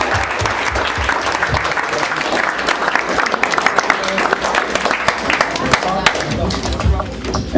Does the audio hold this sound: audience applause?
yes